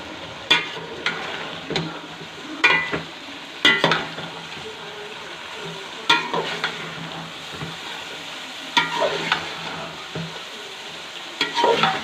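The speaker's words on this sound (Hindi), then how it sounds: "अब इसके अंदर हम अपनी गोभी जो हमने फ्राई करके रखी थी इसको डालेंगे और अच्छे से मिक्स करेंगे" Fried cauliflower being stirred into cooked masala in a pan, a steady sizzle punctuated by repeated spatula scrapes and knocks at an uneven rhythm.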